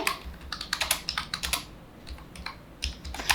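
Keys clatter on a computer keyboard as HTML code is typed, with quick, uneven bursts of close, crisp clicks, brief pauses, then more rapid tapping.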